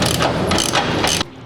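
Power tool driving bolts back into a race car's lower suspension arm: a loud, close, sustained mechanical whir with rhythmic pulsing that cuts off sharply near the end, leaving a quieter hum.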